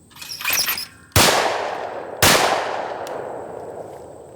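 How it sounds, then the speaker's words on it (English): Two loud, close shotgun blasts about a second apart at an outdoor clay target shoot on a slope in northern Wisconsin. Each blast rings out and decays, and brief outdoor noise comes just before the first. "It's supposed to be a nice little shotgun."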